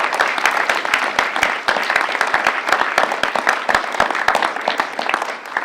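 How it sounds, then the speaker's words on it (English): An audience at the All Saints' Academy hustings 2019 applauds the students, loud, dense clapping from a large crowd with sharp individual claps standing out, sustained for several seconds. "So let's give a round of applause for all those students."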